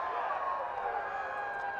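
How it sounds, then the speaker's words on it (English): A baseball crowd at a college game between Trinity University and Birmingham-Southern College cheers in a steady, distant roar that holds evenly throughout. "Can hear the crowd really getting into it."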